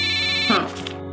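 A mobile phone rings with a steady electronic tone, and a voice cuts in briefly over the ringing.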